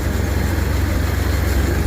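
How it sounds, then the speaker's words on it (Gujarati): A Massey Ferguson 246 DynaTrack tractor idles during a groundnut harvest, its diesel engine giving a steady, loud, low rumble with an even pulsing throb and no voices. "આ ટ્રેક્ટર છે મેસી"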